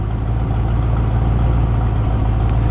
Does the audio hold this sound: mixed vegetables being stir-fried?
no